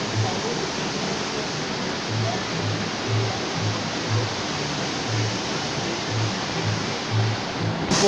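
A waterfall churns a pool of squirt at a tourist attraction, giving a steady, loud, broad rush of falling water that runs without a break from start to finish.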